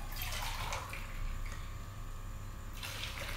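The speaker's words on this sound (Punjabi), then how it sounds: "ਇਸ ਸੂਪ ਦੇ ਅੰਦਰ 2 ਕੱਪ ਪਾਣੀ ਦੇ ਐਡ ਕੀਤੇ ਨੇ" Water pours steadily into a pot of vegetable soup with roasted vegetables, a quiet continuous splashing rush that stops abruptly near the end.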